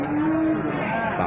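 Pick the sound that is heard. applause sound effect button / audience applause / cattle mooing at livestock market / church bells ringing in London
cattle mooing at livestock market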